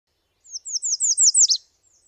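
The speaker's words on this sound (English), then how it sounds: "if you hear a warbler with sort of pure tone song like this that goes down at the end during migration, it's very likely a redstart" A migrating warbler, probably an American redstart, sings a short run of five or six clear, pure-toned notes that ends on a distinct down-slurred note, close and alone against silence.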